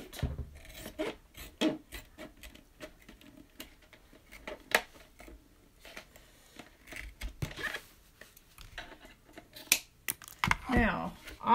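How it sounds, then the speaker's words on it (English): Scissors cutting through a plastic Easter basket, giving repeated close rasping snips and crunching rubs in irregular bursts, with faint handling noise and brief talk in between. "now let's cut down in between these ears"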